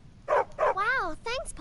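A small dog in the game Skyrim gives two quick yips followed by a rising, whining whimper and a short squeal, close and clear.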